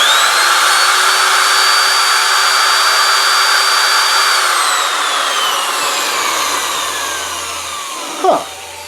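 A power drill with a dull bit whines at a steady high pitch while failing to bite into the workpiece, then winds down and slows, ending with a brief knock.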